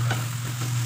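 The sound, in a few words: ampalaya and egg being mixed in frying pan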